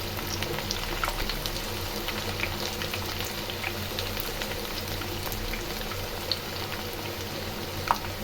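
Bitter gourd frying in oil in a pan, giving a steady, continuous sizzle and bubbling with a few faint pops, moderately close and with no talking.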